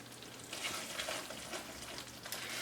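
On low heat, a Fettuccine Alfredo cream sauce simmers with a soft, steady bubbling sizzle that stays faint and even throughout.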